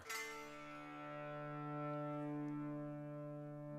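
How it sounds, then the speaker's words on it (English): An electric guitar plays through an auto volume echo effect. A single sustained note swells in gently and rings on as a smooth, steady harmonic tone that slowly fades. "And we have an auto volume echo."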